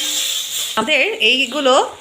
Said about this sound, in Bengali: আমরা একটু এগুলো ভাজা ভাজা করে দিচ্ছি